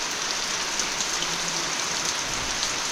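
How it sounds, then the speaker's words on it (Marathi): Heavy unseasonal April rain pours steadily over a Konkan village, a dense, continuous hiss of drops on surfaces close by, with no talking. "पाऊसच पाऊस आहे"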